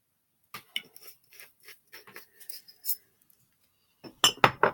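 A glass bottle of Love Me oil clinks and taps lightly as it is handled, with a run of small, sparse chinks followed by a brighter cluster of clinks at the end.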